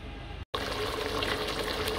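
Water pours steadily into a pot of cooking red kidney bean curry (rajma lobia), a continuous close gushing fill broken by one brief dropout.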